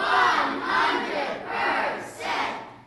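A school crowd of children at an elementary school D.A.R.E. assembly shouts a loud, rehearsed cheer in four surging, rhythmic bursts that fill the room.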